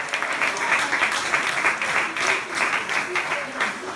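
A church audience claps and applauds, a dense sustained burst of many hands, fairly close and loud, holding steady throughout.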